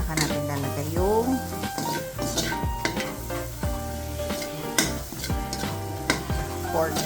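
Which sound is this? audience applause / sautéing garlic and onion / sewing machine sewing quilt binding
sautéing garlic and onion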